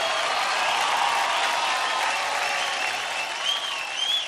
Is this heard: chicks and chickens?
no